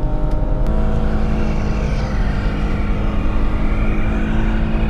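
A free car stuck on someone's property, its smoking engine revving hard and continuously, loud and close, with a steady roar that never drops off.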